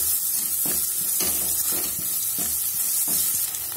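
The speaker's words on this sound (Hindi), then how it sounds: "आधे मिनट बाद हम इसमें कटा हुआ प्याज डाल देंगे और प्याज को लाइट गोल्डन ब्राउन होने तक भून लेंगे।" Chopped onion fries in a pan over a medium flame, a dense, loud, steady sizzle and crackle. Repeated scraping stirs break through it at a regular pace, close up and with no voices.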